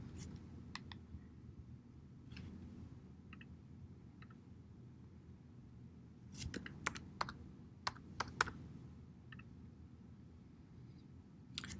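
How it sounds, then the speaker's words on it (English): Login credentials typed on a computer keyboard, with scattered soft key clicks early on and a quicker run of sharper taps midway, quiet and close, no voice. "Under Username, type it as if you were logging into your email, as well as your"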